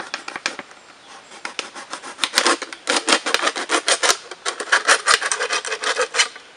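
A plastic bottle is cut for a stingless bee trap, a series of rapid, rasping scraping strokes, close and fairly loud, growing more regular midway.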